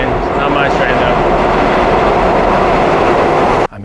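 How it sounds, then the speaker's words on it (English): A New York subway train passes near Roosevelt Island with a loud, continuous roaring rush of wheels and air that fills the whole stretch before dropping away abruptly at the very end. "There's a train, not my train though."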